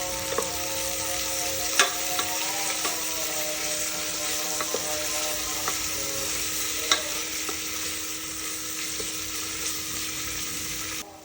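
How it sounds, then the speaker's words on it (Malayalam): Steady sizzling from a hot pan as ginger garlic paste and herbs sauté, with periodic scraping and clinking as a spatula stirs, close and continuous, no voices. "ഇനി ഇത് നമുക്ക് നന്നായിട്ടൊന്ന് വഴറ്റിയെടുക്കാമേ"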